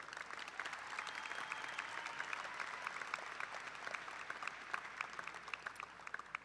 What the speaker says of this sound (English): So let's give a round of applause to Robert Valentine